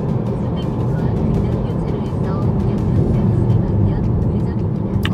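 Steady low rumbling road and tire noise fills the interior of a third-generation Mini Countryman S on rough pavement, constant and fairly loud, with a few faint clicks and bumps over it.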